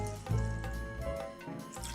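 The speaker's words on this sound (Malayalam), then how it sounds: "പാല് ഒരു മിക്സിംഗ് ബൗളിലേക്ക് ഒഴിക്കുകയാണ്." About a litre of milk is poured into a mixing bowl, giving a soft, continuous liquid trickle and gurgle that sounds close but quiet, with a faint tonal hum in the background.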